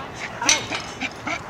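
A small dog whimpering and yipping in short repeated bursts, close by, with faint background noise, at a dog park in Laguna Beach.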